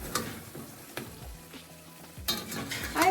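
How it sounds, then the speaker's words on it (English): Stirring a pot of vindaloo beef curry, with soft scraping and wet, bubbly sizzling as the spoon sweeps through the thick sauce, a few sharp clinks against the pot, close and alone. "My final stir."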